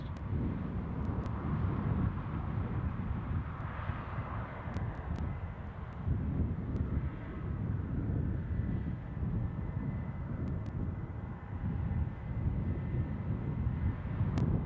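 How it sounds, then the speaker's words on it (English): Airbus A321 jet airliner returning to London Heathrow, a steady broadband engine roar with rumbling low end held throughout, moderately close and continuous, roughened by wind noise on the microphone. "So we look at this Airbus A321 returning to London Heathrow, glimmering away in the evening sunlight."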